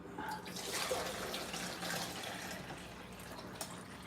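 Tap water runs steadily and close by while several cups are poured in, making a continuous rushing splash that holds for about four seconds with no voices.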